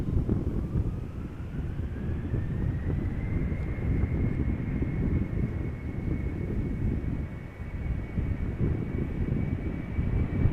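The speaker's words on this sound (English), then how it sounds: "And that would be an Embraer 190 from KLM. KLM flight 1175 outbound to Trondheim." A KLM Cityhopper Embraer 190, thirteen years old, takes off from Schiphol bound for Trondheim: a close, heavy engine roar with a rising then steady turbine whine, buffeted by wind gusts, no talking.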